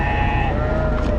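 A sheep at a livestock market bleats loudly up close, one sustained wavering cry over a busy crowd background.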